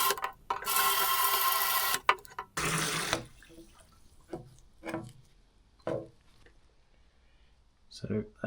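Cold water gushes from a hose or tap into the rusty steel fuel tank of a 1999 Suzuki GSX-R600 barn find in two loud, rushing pours, followed by sloshing, knocks and clunks.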